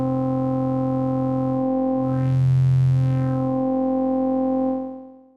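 Experimental FM tones from a Vector Synth, a sustained rich drone that swells brighter and buzzier in the middle before settling back and fading out, with no talking.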